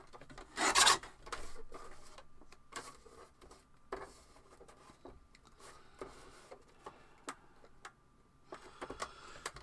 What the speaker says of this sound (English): now all we've got to do is trim those down to their